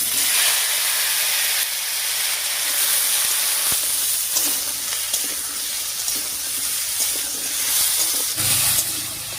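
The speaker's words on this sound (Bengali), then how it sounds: "ফোড়নের উপরে সবজিগুলো দিয়ে একটু নাড়িয়ে নিয়েছি" Mixed vegetables, including jackfruit seeds, eggplant, potato, ridge gourd and pumpkin, fry loudly in a spice tempering, producing a constant dense hiss with occasional scraping from stirring and no speech.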